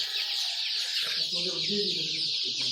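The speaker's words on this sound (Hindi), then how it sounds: "देखिए जी माशाल्लाह ये चूजे।" Chicks peep and cluck in a hatchery brooding pen holding R.I.R and Australorp birds, a steady chorus of small chirps up close with a faint voice in the background.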